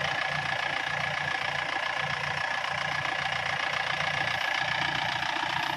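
A farm tractor engine runs steadily outdoors in a rural field area, a continuous mid-to-low rumble with knocking pulses, moderately near and unbroken throughout, with no talk over it.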